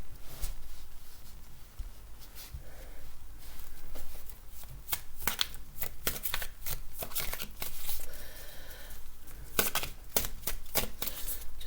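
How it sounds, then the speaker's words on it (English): Tarot cards shuffled and drawn during a reading, a long run of crisp papery riffles and flicks with sharp bursts close to the ear, with no talking. "Just get some more cards here"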